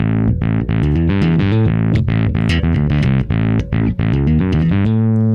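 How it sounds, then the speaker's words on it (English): An electric guitar plays a run of notes through a mild distortion pedal, giving a mild overdriven crunch, loud and close, ending on a sustained chord. "So there's a little bit of mild distortion right in there."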